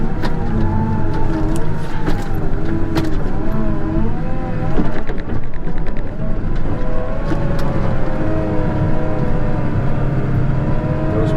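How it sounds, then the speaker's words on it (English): A milk truck pulls in on a snowy farm on a windy day, its engine rumbling steadily and close with shifting pitch, accompanied by a continuous drone of machinery. "snow for the milk truck there. I see he's just pulling in."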